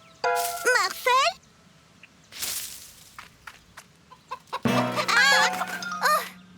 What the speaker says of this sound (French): Bonjour la poule!